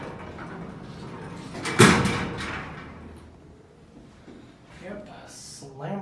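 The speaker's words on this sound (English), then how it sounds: "Yep, slamming up the door." A vintage Otis traction elevator's door slams shut at a Macy's in Northgate Mall, San Rafael, California: one loud clattering thud followed by a fading rumble, with people talking quietly before and after.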